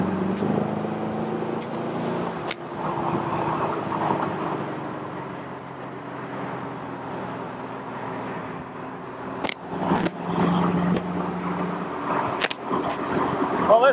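A 1932 Ford Roadster cruises down the freeway, its engine a steady drone with wind and road rumble, punctuated by a few sharp knocks and passing-traffic swells.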